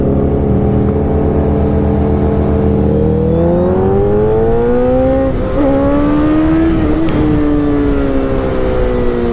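A motorcycle engine revs hard and steady as the rider lifts the front wheel into a wheelie, a loud close drone rising and falling in pitch throughout without voices.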